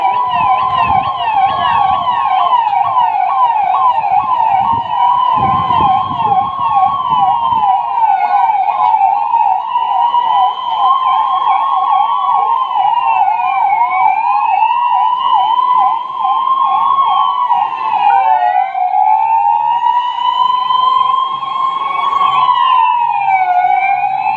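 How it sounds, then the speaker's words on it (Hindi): Several emergency sirens wail loudly at once, their rising and falling tones overlapping and sweeping continuously, with a low engine rumble beneath. "सन्नाटे को चीरती हुई ये गाड़ियां केवल सायरन का आवाज"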